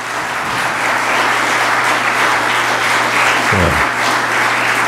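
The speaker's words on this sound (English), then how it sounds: "Can we have a round of applause for them?" A church congregation gives loud, sustained applause during an Advent service, a thick, even roar of clapping that fills the room, with a low hum underneath.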